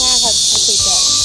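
A male cicada calls in Jinan with a steady, loud, high buzzing drone that runs the whole time, while brief fragments of nearby voices talk underneath.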